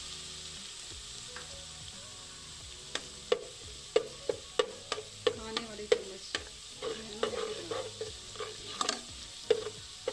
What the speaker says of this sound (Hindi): थोड़ा सा हम इनको ब्राउन करेंगे लहसुन को